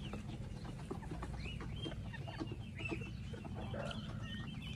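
Backyard chickens in a small home farm plot alongside ducks and geese, scattered soft clucks and short calls over a low steady hum, moderately distant and fairly quiet.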